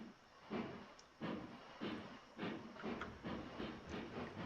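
A steam locomotive in the Railroads Online game chuffs in a steady, evenly spaced rhythm, each hissing exhaust beat repeating about every two-thirds of a second, moderately loud with no talking.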